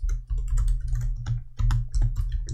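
Code is typed on a computer keyboard in quick bursts of close, crisp keystrokes with brief pauses between runs.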